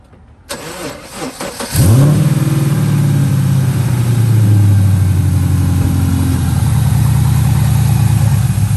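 A Gen 5 2010-2015 Chevrolet Camaro SS that has sat unused for a while cranks briefly, then catches with a loud, close start and settles into a steady, deep idle.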